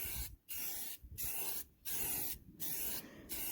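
Spray paint hissing onto the interior of a 2006 Jeep Wrangler in four steady bursts, each about half a second to a second long, separated by brief pauses, close and fairly quiet.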